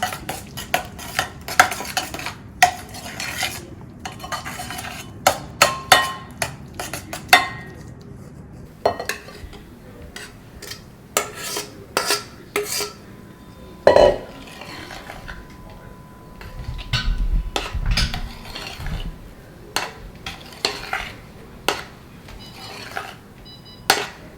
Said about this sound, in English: So now we're going to add the strawberry puree to the cream. And just blend that in.